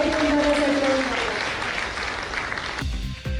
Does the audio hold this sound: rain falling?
no